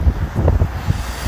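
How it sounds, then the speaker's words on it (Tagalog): Low, steady wind buffeting rumbles across the whole moment in Brighton, UK, with no talking. "Mahangin ang panahon."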